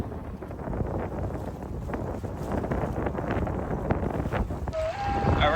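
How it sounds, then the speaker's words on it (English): Strong night wind buffets a sailboat on a Bahamas passage, a steady roaring rush close to the microphone that holds throughout with a brief tonal whine near the end. "I really wanted to go to Taco Bell, but it's crazy windy here."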